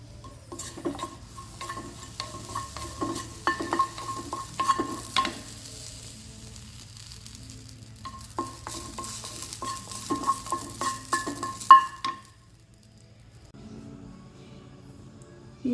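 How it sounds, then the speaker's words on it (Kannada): Green chillies sizzle steadily in a hot pan while a spatula scrapes and stirs them in repeated bursts. A low hum runs underneath, and the stirring stops near the end. "ಮೆಣಸಿನ್ಕಾಯಿ ಫ್ರೈ ಮಾಡ್ತಾಯಿದ್ದೀನಿ."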